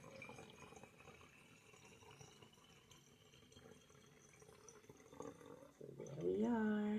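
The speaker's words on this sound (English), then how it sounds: "Now we're gonna pour." A lemon essential oil room and linen spray mixture is poured into a jar: a faint, quiet trickle that swells near the end as the pitch climbs while the jar fills.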